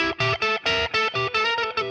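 Distorted electric guitar playing a quick run of clipped, separate notes in a steady rhythm, loud and close, with no talking.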